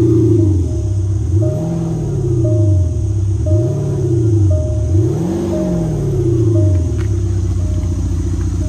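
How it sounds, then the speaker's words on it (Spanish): A car engine is revved hard in about four rising-and-falling bursts, loud and close, its pitch climbing and dropping with each blip of the throttle. "Voy a acelerar para que veáis cómo suena."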